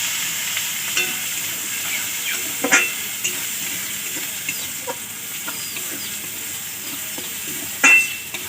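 Garlic paste and black cumin sizzle while frying in a pan, a steady crackling hiss with a few louder pops and stirring scrapes, close and with no talking.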